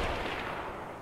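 A single loud gunshot in the shooter game Escape from Tarkov, a close sharp blast that decays over about a second with no voices.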